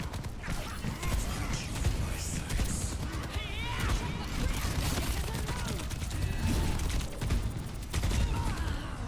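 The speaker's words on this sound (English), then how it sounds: "Man, why can't these guys just keep still while I shoot them though?" Gunfire from shooting at enemies in Overwatch 2, rapid mechanical rattling bursts mixed with clanking game effects, continuous and fairly busy, with talk over it.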